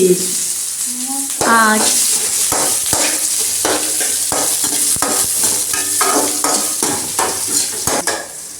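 Chopped onions frying in a pan for kichdi, a loud continuous sizzle with frequent scraping and clinking of a utensil against the pan, while a voice speaks briefly near the start.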